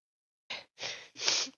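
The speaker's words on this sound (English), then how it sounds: "I sneezed." Three quick breathy bursts, a sharp intake then a short nasal expulsion and a longer burst, forming a single sneeze, close and fairly loud with silence around it.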